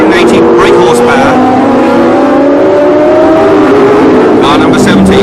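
V8 Formula One race cars at the 1976 Long Beach Grand Prix rev hard and accelerate through the gears, engines climbing to about 11,000 rpm with loud, continuous rising whines as cars pass close by.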